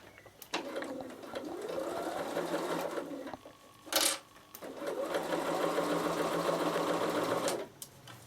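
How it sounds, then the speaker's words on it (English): A Bernina sewing machine runs a straight seam in two sustained whirring stretches, broken by a brief pause and a short rustle of fabric being handled, close and steady. "So I'm going to sew straight down here"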